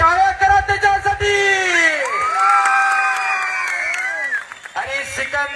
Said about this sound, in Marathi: टाळ्या करा त्याच्यासाठी